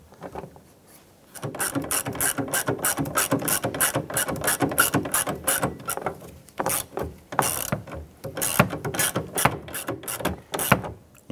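A ratchet clicks rapidly in repeated bursts while threading a bolt into an interior door handle on a 2002–2008 Dodge Ram 1500, close and crisp with brief pauses between runs.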